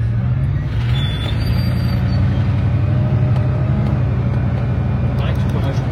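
A Bugatti Veyron's W16 engine idles in Monaco with a deep, steady low rumble that stays constant and close, under a faint airy background and what sounds like nearby voices.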